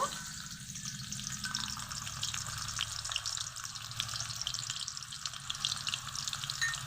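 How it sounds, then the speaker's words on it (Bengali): Sliced onions sizzle and crackle steadily in hot oil in a kadai, frying into crisp beresta for parboiled-rice biryani; the loud, continuous fry runs unbroken with no talk. "তেল গরম হয়ে গেছে এখন বেরেস্তা ভাজার জন্য পেঁয়াজ দিয়ে দিব"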